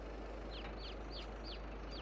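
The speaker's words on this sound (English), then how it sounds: "Look at all these chickens." Several quick, evenly spaced chicken clucks from the video game Farming Simulator 22 ring out over a steady hum of background noise, sounding like in-game poultry rather than a real yard.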